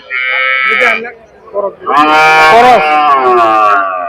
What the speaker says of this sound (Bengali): সামনে অনেক গরু রয়েছে